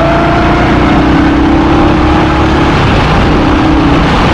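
Indian Scout 1133 cc American cruiser motorcycle engine heard while riding, a loud, continuous mid-pitched drone with steady rumble and a slight rise and fall in tone as the rider shifts gears.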